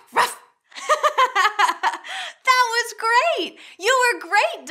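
Children imitate dogs barking, producing a string of playful voiced 'woofs' in quick bursts with short pauses between them, close and clear, with some spoken words mixed in.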